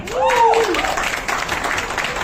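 Audience applause welcoming actor Ajay Devgan at a media and entertainment event, dense clapping under a brief whooping voice at the start, steady and fairly loud.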